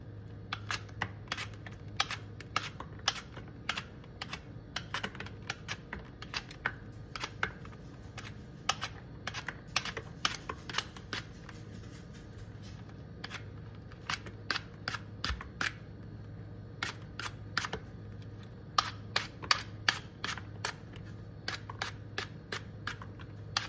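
Granny Smith and Honeycrisp apples are peeled with a knife, giving close, crisp little clicks and cuts in a quick irregular rhythm over a low steady hum, with no talking.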